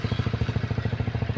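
A Honda CBR150R K56 motorcycle engine runs at a steady idle with an even, rapid pulsing beat, close and fairly loud with no talk over it.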